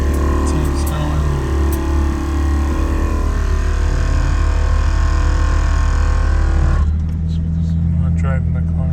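A repaired car engine idling and revving close by, a steady mid-pitched hum with some rising revs, then cutting to a different, rougher engine tone near the end; a voice speaks briefly.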